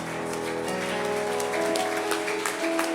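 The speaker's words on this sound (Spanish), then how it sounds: "Denle un aplauso entonces al Señor." Congregation at a men's church retreat applauding, a dense, steady wash of clapping from many hands, loud and continuous throughout with music playing beneath.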